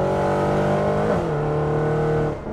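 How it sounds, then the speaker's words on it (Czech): A car engine loudly revving with throttle blips between gear shifts, its steady drone dipping in pitch and rising again during a drive in a Kozabobkov-built car nicknamed Satanwagen. "A dělá to mezi plyn, nebo se mi to zdálo? Dává to mezi plyn."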